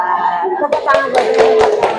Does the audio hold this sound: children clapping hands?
yes